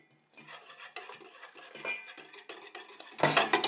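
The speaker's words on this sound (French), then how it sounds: "Et je mélange sans arrêt." Aqueous phase being stirred into a melted oily phase, heard as close, continuous scraping and swishing of a utensil against a container, growing louder and busier toward the end.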